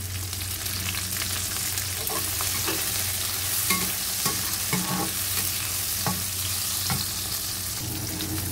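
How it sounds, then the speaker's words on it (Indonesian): Chili peppers stir-fried in a pan while cooking water spinach and sausage, a steady close sizzle of frying oil broken by repeated sharp scrapes and taps of the spatula. "Kita masukkan cabenya"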